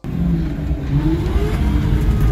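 A drift car engine held against its limiter at 5500 rpm, loud and close, a sustained bouncing rev with a slight rising whine, no speech over it.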